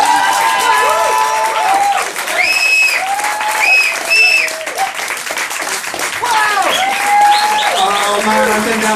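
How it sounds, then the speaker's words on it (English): A comedy club audience applauds a performer with sustained, loud clapping and scattered whoops and cheers, while voices carry over the crowd noise throughout. "A big round of applause, please."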